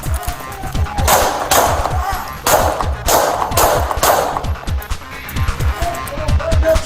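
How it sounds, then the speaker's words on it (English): Gunshots fired during a police confrontation with a robbery suspect in a motel parking lot in Austin, Texas: a series of loud, sharp bangs spaced about a second apart, ringing over a noisy outdoor background. "Shots fired."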